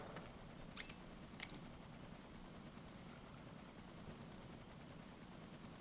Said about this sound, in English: That's just a helicopter.